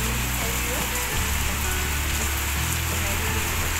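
Heavy monsoon rain pours down in a dense, constant hiss, with low rumbles and knocks underneath.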